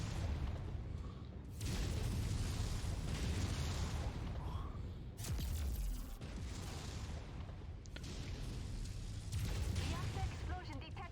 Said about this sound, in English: Explosion detected.